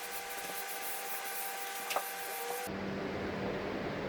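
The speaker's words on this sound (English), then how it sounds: "Now you can see the round sander in action." A round sander works across a plaster ceiling with a steady, fairly faint broadband whir and rubbing hiss, a brief scrape near the middle, then the tone shifts lower and duller as the pass changes.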